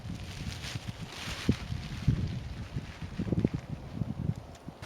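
Breezy wind blowing steadily outdoors at a campsite on a fine day, a continuous buffeting rumble with gusty swells against the microphone, no talk.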